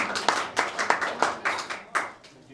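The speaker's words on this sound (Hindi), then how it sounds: "एक बार जोरदार तालियां बजाइए" Quiz-show audience claps for a group's score in uneven bursts of hand claps, fairly close and lively, with faint voices beneath.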